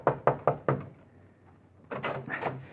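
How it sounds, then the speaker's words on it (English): A fist pounds a door in a radio drama sound effect: four heavy, close knocks in quick succession, a pause, then a further rough clatter of banging. "you pray there's still someone in the copy room as you pound on the door"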